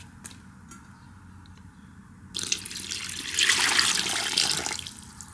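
Water from a pitcher pours steadily into a cat pool, a soft trickle swelling into a brighter, louder splashing stream for a few seconds before easing off, with no talking.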